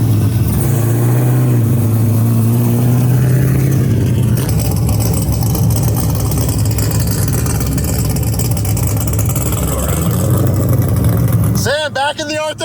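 A Nissan Skyline R32 with its factory exhaust, driving. A loud, steady engine drone holds throughout, with a brief change in tone near the end.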